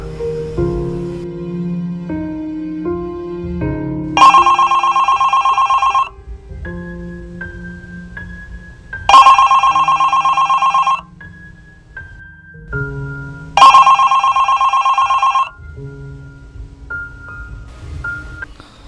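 A telephone rings loudly three times in long electronic bursts in a Sindhi film scene, each ring separated by a few seconds of soft background music, with no voices heard.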